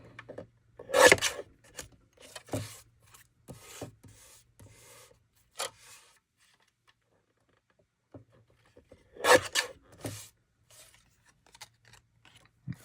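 Cardstock is trimmed for a handmade card, two crisp cutting strokes several seconds apart with soft rustles and taps of paper handling between them in a quiet room.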